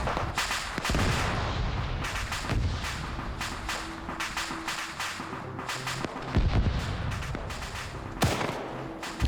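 Ammunition cooking off in the Vietnam war game Rising Storm 2, with a series of sharp, loud bangs and blasts popping irregularly over an ongoing battle.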